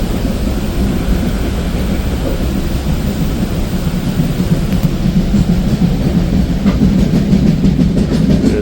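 An Indian passenger train runs along the rails toward Delhi, heard from inside as a loud, constant low rumble with faint clickety-clack from the wheels and no voices.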